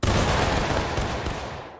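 A musket volley fired on command in the Napoleonic-era game UEC Grand Campaign, a single loud, dense crackling burst of many shots that quickly decays.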